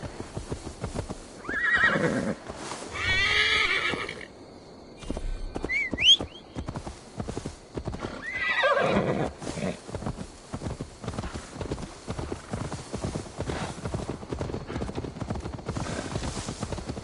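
A horse being delivered in Assassin's Creed Valhalla, with loud repeated neighs and whinnies over steady clip-clopping hooves throughout, plus a brief whistle.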